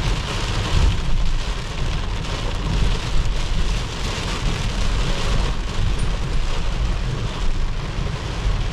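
Heavy rain pours down steadily and loudly at an outdoor Taste of Manila festival in Toronto, a dense continuous roar with low rumbling beneath that suggests thunder, and no voices over it.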